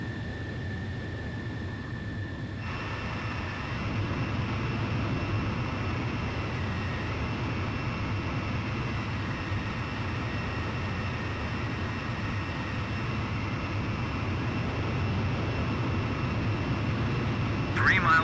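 Jet aircraft on final approach in the video game Ace Combat 5, a steady engine roar and broadband rumble holding throughout, with a thin whine fading early and faint game tones near the end.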